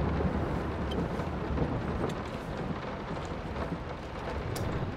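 A thunderstorm in the horror game Layers of Fear rumbles and hisses steadily, with continuous rain and low thunder at a fairly soft, even level and no pauses.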